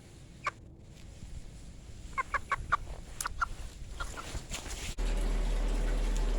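Roosters cluck in quick bursts nearby, a few short sharp calls, before a steady loud rushing noise takes over.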